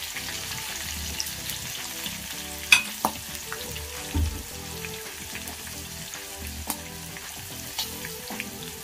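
Lemon rice seasoning with green chilies, dried red chilies, turmeric and salt frying in a pan, a steady soft sizzle with occasional stirring scrapes and clinks, alone without talk.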